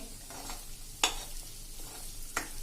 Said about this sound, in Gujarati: હવે મીડિયમ ફ્લેમ ઉપર આપણે આ રવો શેકવાનો છે